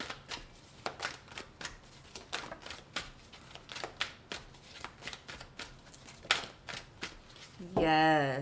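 Tarot cards being shuffled by hand in a quick series of crisp riffling snaps, close and fairly regular, ending with a short burst of voice.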